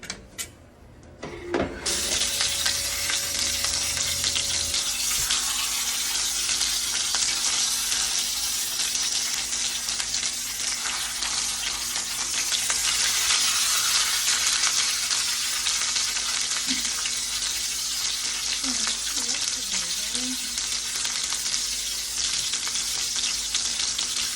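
Pork chops fry in a pan for a pork-chops-with-mushroom dish, a loud, close, continuous sizzle that holds steady throughout after a brief quieter start, with faint clatter near the end.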